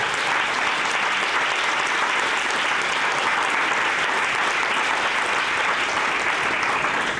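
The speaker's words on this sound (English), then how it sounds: "would you give them a round of applause?" Event audience in Saint Paul giving a steady, loud round of applause, dense continuous clapping from a large crowd throughout, without voices on top.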